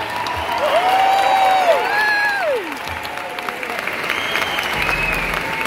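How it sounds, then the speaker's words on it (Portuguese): A concert crowd at a show in Tokio Marine Hall claps for Dr. Roberto Calil, a broad wash of applause mixed with whistles and cheers, loud at first and easing slightly later. "Uma salva de palmas especial aqui para o Dr."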